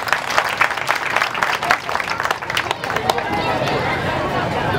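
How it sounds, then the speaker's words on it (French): A large crowd at a 26 March celebration in Ouéléssébougou, Mali, applauds the liberator with brisk clapping near the start, which thins into a murmur of many voices and a noisy crowd. "Je vous prie d'applaudir encore le libérateur."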